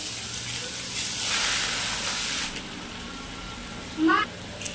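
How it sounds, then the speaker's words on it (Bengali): Spices tempering in a little hot oil for a Bengali vegetarian khichuri, giving a steady soft sizzle and hiss that swells briefly, with a short voice near the end. "তারপরে আরেকটু তেলে ফোড়নটা করে নেব।"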